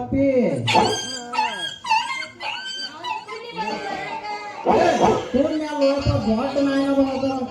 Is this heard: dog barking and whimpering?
yes